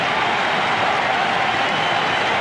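A baseball stadium crowd at the 1999 NLDS Game 4 between the Mets and Diamondbacks roars and cheers in a dense, continuous wash of noise for a couple of seconds.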